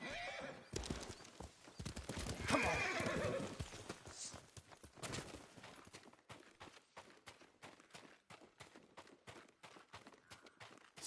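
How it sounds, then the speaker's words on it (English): In a samurai video game, a horse whinnies loudly, then hooves clip-clop in a quickening, regular gallop, close and clear, while someone briefly shouts over it. "A good horse."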